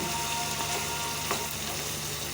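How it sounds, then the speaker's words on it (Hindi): Mutton with spices fries in a pan with a dense, steady sizzle and a few faint stirring scrapes, close and continuous with no talking. "बहुत अच्छे तरीके से हम इसको भून लेंगे ताकि इसमें कोई कसर ना रहे"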